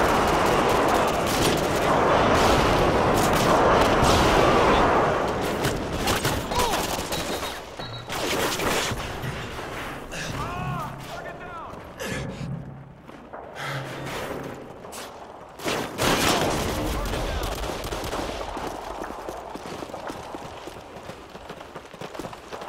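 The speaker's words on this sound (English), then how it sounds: "Airstrike inbound." A Modern Warfare 2 airstrike brings heavy, rumbling explosions and crackling gunfire in a team deathmatch on the Invasion map, a loud, continuous barrage that thins briefly mid-way and then surges back with fresh blasts.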